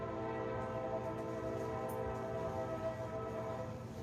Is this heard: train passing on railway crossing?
yes